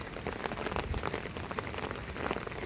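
Rain falls steadily and close by, a dense patter of drops on a surface that keeps a constant hiss throughout.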